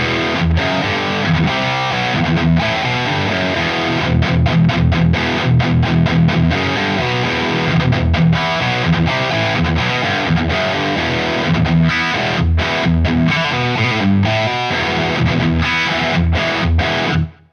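Saturated, heavily distorted electric guitar with the amp gain raised to about 10 o'clock, riffing for a long stretch, dense chugs and quick stops, loud and close with no voices.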